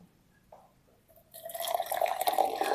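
About 250 ml of hot water is poured for herbal tea: after a quiet start with a few small drips, a steady pouring stream begins and its pitch rises as the vessel fills.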